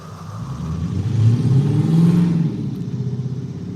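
A loud car engine revs close by, its deep rumble swelling over about a second and a half before easing back to a steady, throaty idle.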